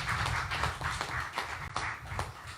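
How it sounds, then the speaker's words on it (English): A seated audience gives a round of applause during a Prime Minister's speech in St Kitts and Nevis, steady dense clapping sustained throughout at moderate level. "I want us to give Minister Nisbet and Permanent Secretary Maynard a round of applause for the work that they have done."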